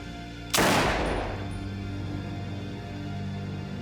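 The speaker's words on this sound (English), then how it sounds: "She shot him once, then she shot him again." A single loud gunshot cracks out in a dramatised crime reconstruction, then rings away in a long decaying tail over a low, steady background hum.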